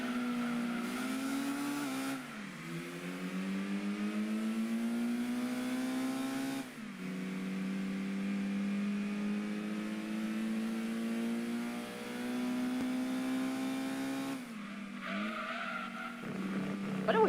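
Honda Civic VTi racing in Gran Turismo 2, its engine revving steadily and climbing through gears, with pitch drops at shifts and tire skids and squeals along the way.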